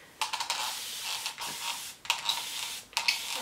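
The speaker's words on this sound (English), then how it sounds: "I'm just gonna be using my spray bottle to dampen my hair" Several short bursts of fine mist hissing from a spray bottle, each a quick pump followed by a brief pause, close and fairly loud.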